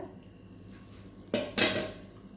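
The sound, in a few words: stirring fish curry ingredients in a pot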